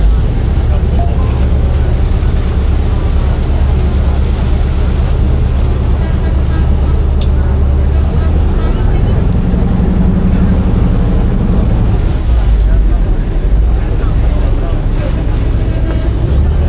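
On a ferry crossing to Koh Larn island, a boat engine drones loudly and steadily while wind buffets the microphone and waves wash against the hull, with voices faintly mixed in.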